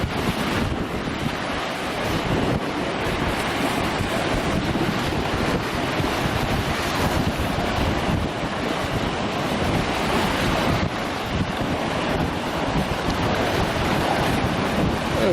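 Sea waves break continuously at Watchet under gusting wind, a loud, full roar of surf with wind buffeting the microphone and no talking.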